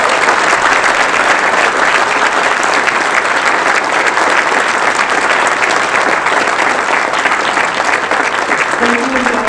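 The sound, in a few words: audience applause at awards event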